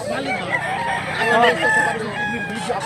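A rooster crows loudly and close by, its long call stretching across the clip with clucking mixed in.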